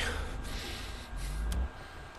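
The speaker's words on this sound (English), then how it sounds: "that boy breathing hella hard" Hard, heavy breathing from a character in the video game Days Gone, snorting and gasping breaths over a low rumbling game background.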